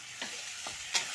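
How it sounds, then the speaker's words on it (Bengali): Onion paste being stirred and fried in a pan for a Kolkata-style prawn malai curry, giving a steady low sizzle broken by three brief scraping stirs, close and fairly quiet with no talking. "এইবার এর মধ্যে আমি পেঁয়াজ বাটা দিয়ে দেব, তারপরে এটাকে ভালো করে নেড়ে চেড়ে নিতে হবে"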